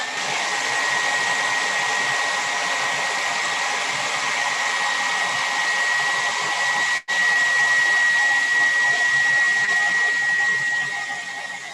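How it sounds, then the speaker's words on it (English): Hair dryer blowing steadily up close while drying an earth clay mandala, a continuous whirring hiss with a thin high whine that cuts out briefly once and then resumes. "I'm gonna try drying it one more time."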